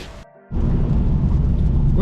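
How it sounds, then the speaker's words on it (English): A dense, steady hiss of rain fills the clip after a brief quieter moment at the start, constant and fairly loud. "I apologize for the rain noise."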